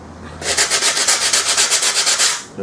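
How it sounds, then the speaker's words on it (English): Rapid back-and-forth sanding of a part on a model aircraft build with an EDF pod, a steady rhythmic scratchy rasp of about a dozen quick strokes, close and alone. "I can also sand that off"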